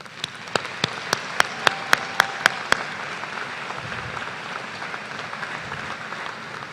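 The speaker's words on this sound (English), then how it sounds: "clap with me as we recognize their accomplishments." A commencement audience applauds graduating students in a broad, distant patter, while one nearby pair of hands claps in a steady, loud rhythm about nine times before stopping.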